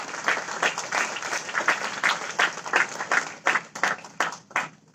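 A symposium audience gives the HR panel a big round of applause. The dense clapping starts full and loud, then gradually thins into scattered separate claps toward the end.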